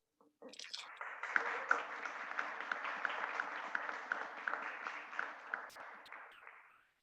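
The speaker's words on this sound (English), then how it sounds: "I hope you heard the applause right here from Dubai." Audience applause fills the room at a founder showcase in Dubai, a steady broadband wash of many hands clapping for about six seconds before tapering off, with no talk over it.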